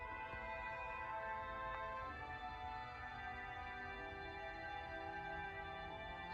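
Recorded fiddle lines layered over programmed, cinematic-style music, sustained bowed tones and held chords flowing steadily at a soft level with no voices.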